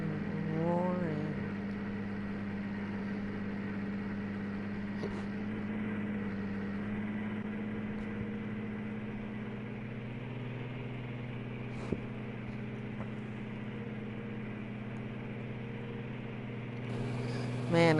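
An old Lamborghini tractor in Farming Simulator 19 drones at about 26 miles per hour, a steady, even engine hum holding for the whole stretch with only slight shifts and a faint click or two.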